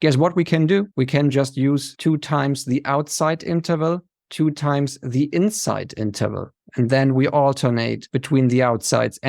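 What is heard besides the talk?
None of the usual background noises is heard.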